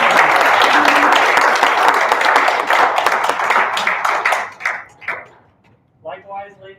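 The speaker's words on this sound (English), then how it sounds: "Let's give them a round of applause." An audience applauds the judges at a 2020 capstone event, a dense burst of clapping that thins out and fades over a few seconds, followed by a short stretch of talk at the end.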